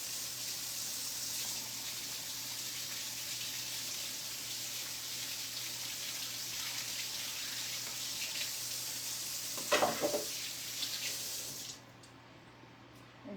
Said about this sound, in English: I'm going to give my hands a quick rinse just in case I got a little bit of that jalapeno on them.